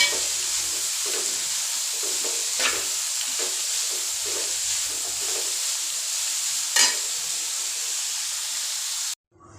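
Onions for a Tamil chicken curry sauté in a pan toward golden brown, giving a loud, continuous sizzle with occasional stirring scrapes close up, no talking, then cutting off abruptly at the end.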